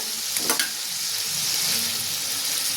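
Coconut paste frying with tomato in a hot pan gives a steady, close sizzling hiss. A brief stirring scrape comes near the start, and no one speaks.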